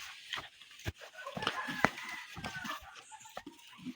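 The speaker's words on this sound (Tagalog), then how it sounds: "Ang laki naman ng inahin na to." A large mother hen and other chickens cluck and call softly at close range, with a few sharp knocks and faint background voices around them.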